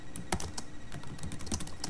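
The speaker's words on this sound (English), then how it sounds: "I'll keep typing until I reach a point where I want to start a new paragraph" Rapid, uneven keystrokes on a computer keyboard while writing a document in Word, a steady close run of sharp clicks with no talking.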